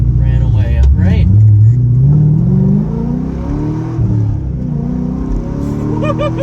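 A 2005 Corvette C6 with its LS V8 revs up hard under acceleration, a loud, rising mid-low engine roar filling the cabin, with someone talking over it.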